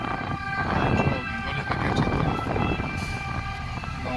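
A loud, steady ambulance siren wails through heavy street traffic noise in Marsala, Italy, holding on continuously without pause.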